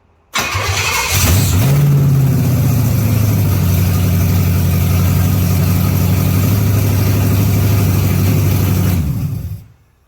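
A restored 1969 Pontiac GTO engine cranks briefly, then fires and catches into a loud, steady rumbling idle close by, holding for several seconds before the sound cuts off.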